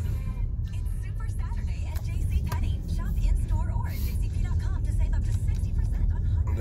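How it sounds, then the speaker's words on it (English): A Subaru Legacy Premium drives slowly through deep snow after a 40-inch blizzard in Owego, NY, its engine and road noise giving a steady low rumble throughout, with faint murmuring voices now and then. "Driving through a wall of snow on either side of my car"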